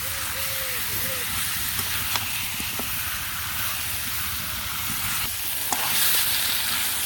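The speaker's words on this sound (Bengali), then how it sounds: "মাংসটা ভালো করে আর কি কষিয়ে নেই" Marinated meat stir-fried in a pan, a dense hiss and sizzle running steadily throughout with a few sharp spatula clicks, close and loud, a faint voice briefly in the background.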